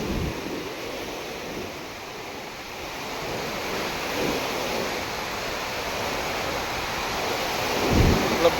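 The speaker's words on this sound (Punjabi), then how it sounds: "ਇੰਨੀ ਸਪੀਡ ਨਾਲ ਪਾਣੀ ਆ ਰਿਹਾ ਕਿ ਦੇਖ ਕੇ ਵੀ ਡਰ ਲੱਗਦਾ" Torrent of water surging through the open spillway gates of Pong Dam at Talwara, a steady broadband roar with wind buffeting the microphone, rising slightly near the end.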